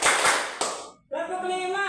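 A few sharp hand claps in a classroom counting exercise ring out loud and close in the first second, followed by a steady sung or chanted voice.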